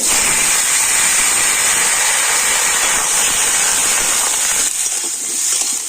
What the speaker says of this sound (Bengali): এবার আমি কেটে দেখা আলু আর ঝিঙেটা দিয়ে দিচ্ছি